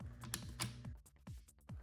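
The magnetic hose of a portable air pump is pressed down onto its on-off switch, giving a series of small, faint plastic clicks in an irregular quick rhythm, heard close and alone.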